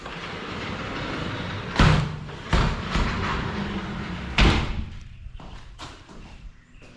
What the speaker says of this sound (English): we now have sliding doors for the casita.